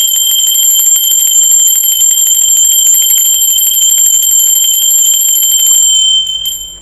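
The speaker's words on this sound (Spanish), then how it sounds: "va campana" A bell rings with a bright, sustained metallic tone that holds steady and loud for about six seconds before quickly fading out, with no voices over it.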